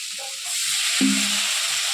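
Soft frying hiss from a ginger masala cooking in very little oil, which rises into a louder steady sizzle once a small splash of water is added, with a brief tonal scrape partway through.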